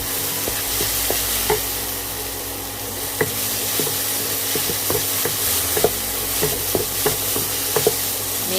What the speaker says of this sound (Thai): เราผัดเห็ดหอมสุกแล้วนะคะ แล้วก็ใส่ใบกระเทียมเผาลงไปค่ ะ